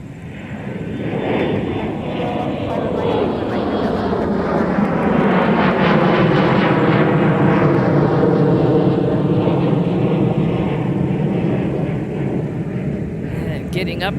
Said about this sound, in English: that was SkyWest 4070 headed to Sioux Falls, Embraer 175 LR